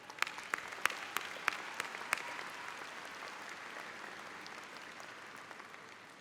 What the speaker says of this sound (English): So perhaps we could all applaud everyone in the audience for coming to join you today.